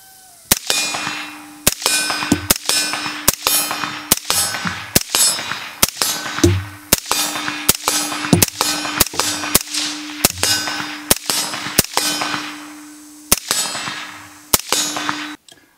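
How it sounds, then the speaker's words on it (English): Suppressed rifle firing about twenty sharp, ringing metallic cracks in an uneven, fairly rapid string, running Tula ammunition through a titanium nitride bolt carrier group, each shot leaving a short resonant ring. "we're going to run 60 rounds of Tula through here with a can"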